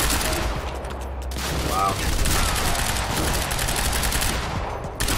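A Quantum Break firefight roars with dense, continuous automatic gunfire and loud booms, a player briefly exclaiming over the relentless shooting.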